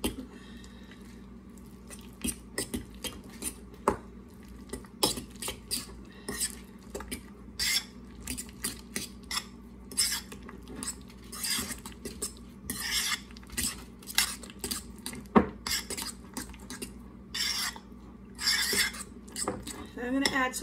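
Cheddar cheese filling for stuffed jalapeños being mixed in a bowl, with repeated clinks and scrapes of a utensil against the dish and soft squishy stirring in an irregular rhythm, close up throughout.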